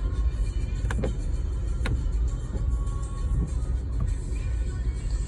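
A Volkswagen-type car on a test drive, giving a steady interior road rumble and engine drone with a few faint clicks and squeaks, continuous and fairly loud, with no voices.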